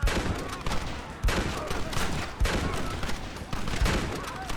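Sustained gunfire in the video game Red Dead Redemption: dense, continuous crackling shots with sharp heavier bursts about every second, loud and close, with no voices over it.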